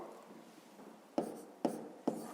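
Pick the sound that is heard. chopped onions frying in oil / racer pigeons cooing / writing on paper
writing on paper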